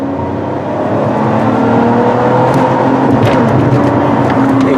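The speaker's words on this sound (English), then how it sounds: "We're going to upshift up to third gear." A car with an AW55-50SN automatic transmission carrying a solenoid fault drones steadily from inside the cabin as it accelerates, the engine pitch shifting while it upshifts into third gear.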